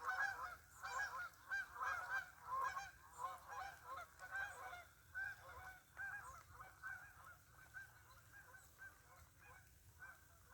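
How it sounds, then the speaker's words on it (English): Geese honk repeatedly out in an open field during rainfall, a busy overlapping chorus of calls that is loudest at the start and gradually thins and softens, with steady rain hiss underneath. "If there's some geese, they're out in the field."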